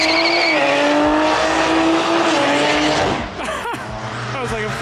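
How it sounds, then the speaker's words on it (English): Rally car engine revving hard in a fourth gear burnout, a loud close sustained engine roar that rises in pitch and then drops away, with tyre noise and people talking over it. "That was like a fourth gear burnout."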